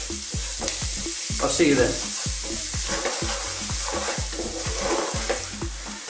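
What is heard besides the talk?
finely chopped garlic frying in a pan on low heat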